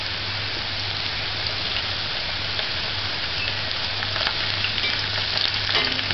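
Homemade potato French fries frying in hot oil, a steady dense crackling sizzle throughout, close and continuous with no talking.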